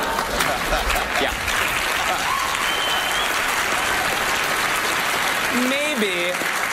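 Studio audience applause at a magic show fills the scene steadily throughout, dense and continuous, with a few brief voiced sounds rising over the clapping near the end.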